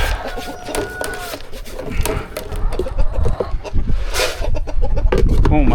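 Brahma chickens and roosters cluck and squawk close by in a busy farmyard, with overlapping bird calls and scattered thumps and rustling throughout.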